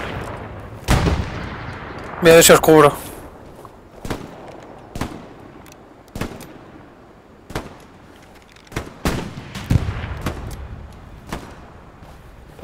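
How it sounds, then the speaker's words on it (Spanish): Gunfire in the World War II shooter Hell Let Loose on the Foy map: sharp single shots crack out at irregular intervals, one quick rapid burst among them, over a low background rumble, with someone speaking Spanish briefly in between. "Disparos en 350."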